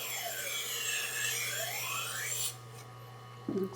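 Kitchen knife blade ground against the diamond wheel of a Tormek T-1 sharpener, a steady close rasping scrape lasting a couple of seconds before breaking off, followed by a quiet pause and a brief knock.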